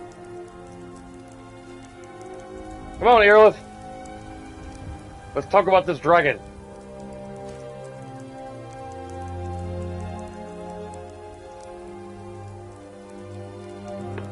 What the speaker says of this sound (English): Now the rain slowed down.